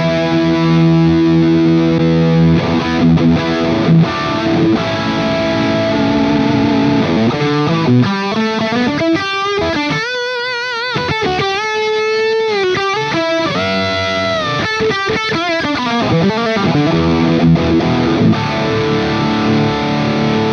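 A heavily distorted electric guitar through a Friedman BE-100 amp plugin with the gain cranked plays loud, saturated riffs and sustained chords, thick and gritty with high gain, no voices.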